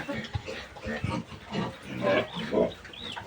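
Native pigs grunting and snorting while eating feed, several close, uneven grunts over a few seconds with faint background noise.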